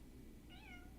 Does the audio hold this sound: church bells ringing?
no